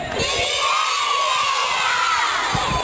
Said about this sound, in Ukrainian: А тепер всі так обідняли ручки до гори. І всі кричать Привіт, Федя